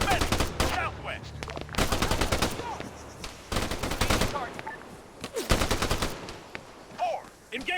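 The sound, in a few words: gunfire in the video game ARMA 3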